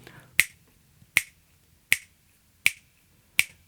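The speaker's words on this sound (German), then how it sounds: "Ich mache das mal vor, indem ich schnipse" Five sharp finger snaps, evenly spaced and close, each a crisp isolated crack with nothing else around them.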